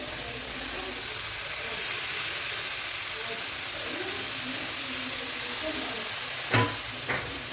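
Washed flat beans fry in oil in a pan for a bean gravy, giving a steady hiss and sizzle that stays even and close throughout, with a couple of sharp clinks near the end and no talking.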